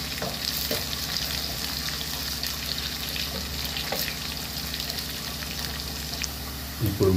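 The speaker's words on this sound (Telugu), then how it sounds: "ఇలా ఫ్రై చేసుకుంటూ కలుపుకుంటూ ఉండాలి." Tomato Gangavalli pulusu curry ingredients fry in a pan, a continuous loud sizzle broken by frequent stirring scrapes and clinks, with a louder clatter near the end.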